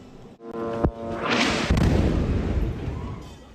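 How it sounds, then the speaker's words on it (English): Explosions during an Israeli air and ground assault on the town of Nusrat: a sharp blast followed by a heavy, rumbling boom that rolls on and fades slowly. "Explosions rocked the town of Nusrat as Israel staged an air and ground assault."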